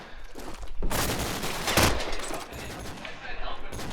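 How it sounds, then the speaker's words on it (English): Bursts of gunfire in a competitive video game match at a LAN event, rapid loud volleys lasting several seconds with a commentator talking over them. "Oh, Zuma landing the tag, but Dex getting himself a double kill"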